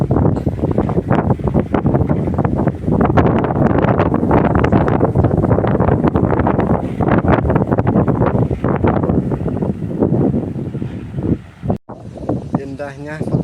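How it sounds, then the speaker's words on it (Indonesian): A kolecer, a wind-driven bamboo windmill among mountains and rice fields, roars in a continuous gusty rumble like a boat engine, loud and close, with a voice talking over it. "Gemuruhnya suara kolecer"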